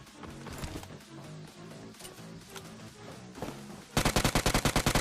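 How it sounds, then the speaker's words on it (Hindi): Rapid automatic gunfire in a shooting video game, a dense volley of loud bursts over the game's background sounds, ending in a sharp, evenly spaced string of close shots. "पीछे से फायरिंग की साउंड आई है"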